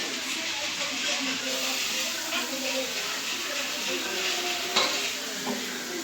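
Masala fries in a pan before paneer goes in, a low, even sizzle with intermittent scraping and clinks from a spoon against the pan, while voices murmur faintly in the room.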